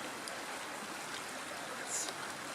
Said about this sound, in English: creek here